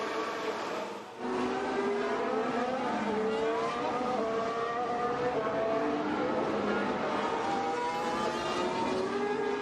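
Formula 1 cars on track during Singapore Grand Prix practice, engines whining loudly and continuously with rising and falling pitch as several cars accelerate, close and dense throughout after a brief quieter opening.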